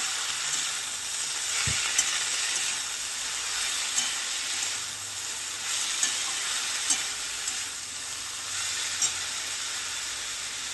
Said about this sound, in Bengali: দেখুন বন্ধুরা, লাল শাক ভাজা হয়েও গেল।